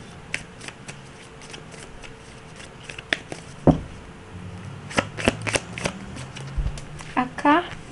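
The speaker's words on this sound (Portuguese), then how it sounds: "Eu sempre dou essa embaralhada antes de pegar o espírito dos animais." A deck of tarot-style animal spirit cards is shuffled by hand: crisp papery rustles, riffles and light taps come in irregular bursts, growing busier toward the end, with a voice faintly underneath.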